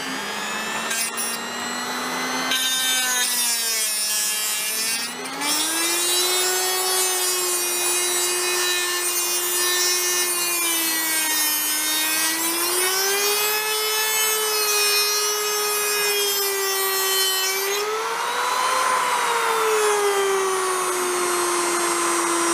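A Dremel rotary tool fitted with a small cutting disc grinds into an old putty knife to shape a bushcraft blade. A loud, close, continuous whine rises and falls in pitch as the disc bites into the metal.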